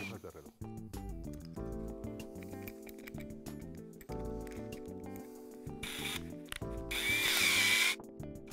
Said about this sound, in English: We continue with the extractor working counterclockwise.